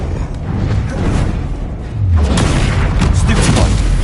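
A Confringo blasting curse goes off in Hogwarts Legacy, a loud, sustained boom with a deep low rumble that swells partway through and holds over dense game noise.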